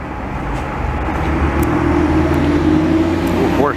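A Porsche drives past on a downtown city street, Rue Notre-Dame in Montreal, its engine note rising and sweeping by close amid steady traffic rumble, with no talking.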